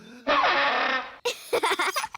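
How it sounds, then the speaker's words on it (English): A funny cartoon instrument called a blotto horn lets out one loud, buzzy, rasping blast of about a second, followed by someone speaking. "And this is the blotto horn."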